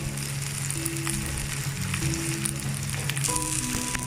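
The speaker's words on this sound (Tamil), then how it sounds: "ஒரு 5 மினிட்ஸ் வெண்டைக்காயை மீடியம் ஃப்ளேமில் வச்சு நல்லா வதக்கி விட்ருங்க." Okra sautéing with a little salt in a pan over a medium flame gives a steady, even sizzle with faint stirring scrapes. It is continuous and close, with no voices.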